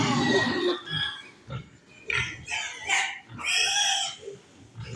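Pigs feeding, heard as close snorting grunts and oinks in irregular bursts over a low chewing rustle, with no talk.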